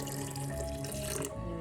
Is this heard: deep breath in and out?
no